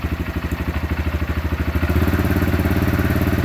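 Honda CRF125F dirt bike engine revving up from a steady throttle pulse to a louder, sustained high-rpm drone, close and continuous with no talking.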